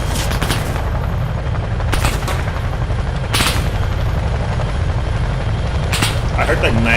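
A Chinook helicopter's loud, constant rotor roar in a Vietnam-era video game set at Rung Sat in 1966, with bursts of gunfire cracking through at intervals and someone talking over it.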